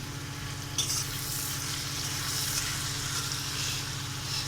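Turmeric, chili powder and salt sizzle in a pan for a fish curry, a steady frying hiss with a low background hum and a brief stirring scrape near the start.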